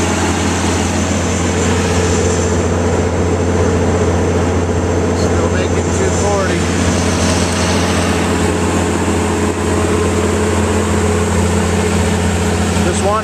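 A generator with no muffler runs loud and steady throughout, a deep continuous engine drone with a strong low hum and no breaks.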